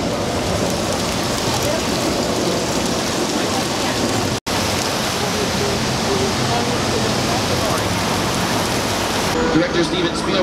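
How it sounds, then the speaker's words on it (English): Artificial rain pours onto the Old Mexico set of the Universal Studios Hollywood backlot as a steady, loud, unbroken hiss, interrupted only by one brief cut partway through. "We are doing a little weather demonstration, though, on your left-hand side, showing you how we create a little rain at any time of day."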